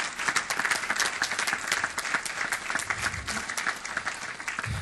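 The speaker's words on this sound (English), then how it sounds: "Give Cynthia a round of applause." Audience applause at a city council meeting, welcoming a breast cancer survivor and lymphedema patient advocate, a steady dense clapping throughout with occasional low thumps.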